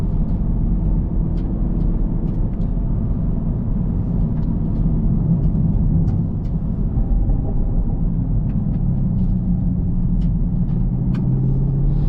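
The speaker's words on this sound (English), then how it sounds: "you can also start to hear the amount of gravel just from the agriculture and everything else" A 2023 Chevy Camaro SS 1LE cruises a narrow rural Kentucky road scattered with agricultural gravel, giving a steady low engine and tyre rumble from inside the cabin with faint occasional ticks of grit hitting the car.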